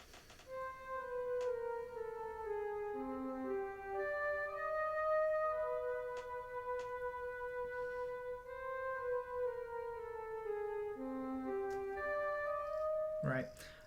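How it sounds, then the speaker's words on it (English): A flute blended with a double reed plays a slow, sustained melody that winds up and down the register, clear and alone with no other sounds around it. "the higher you get, the more the flute is going to pop out because the double reed is going to get quieter up there."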